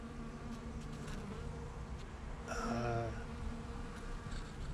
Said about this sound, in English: here we have the Epiphyllum orchid cactus with the bees